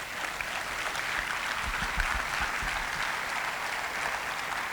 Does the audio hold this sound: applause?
yes